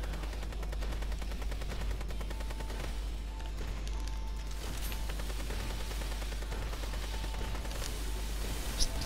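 Rapid, continuous automatic gunfire from the shooter game Sword Art Online Fatal Bullet, a steady rattling stream of shots at moderate level throughout, with a low constant hum underneath.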